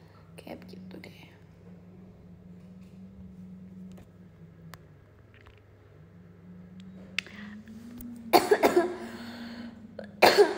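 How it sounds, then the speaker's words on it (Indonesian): A single cough from a young woman hosting a JKT48 Showroom livestream, sounding close and fairly loud near the end, after a stretch of quiet room tone with a steady low hum. "Aduh batuk."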